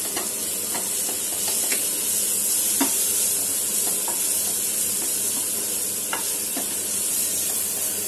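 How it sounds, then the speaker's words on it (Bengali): Spiced keema mixture with salt and turmeric being stirred in a pan, with a steady sizzle and scattered soft scrapes of the spoon against the pan throughout, no talking. "এবার আমি এটাকে ভালো করে নেড়ে নেব।"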